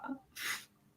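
One short, sharp sneeze bursts out after a faint breath, close and quiet, in an otherwise hushed room.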